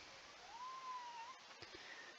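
A pet cat gives a single faint, rising-and-falling squeaky meow in the background of a quiet indoor room, followed by a few soft knocks.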